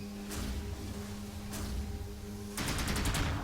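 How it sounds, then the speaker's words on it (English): Ice bullet gunfire in the video game NecroVisioN, set in a cavern: a rapid burst of shots breaks in near the end over a steady humming game backdrop, with a couple of brief bright bursts earlier. "You just do the ice bullet real quick and then shoot them."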